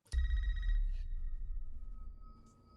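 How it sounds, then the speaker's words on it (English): A telephone rings in the Scream (2022) trailer, one sharp tonal ring that decays over a deep low rumble, followed by a faint softer tone near the end. "Phone ringing."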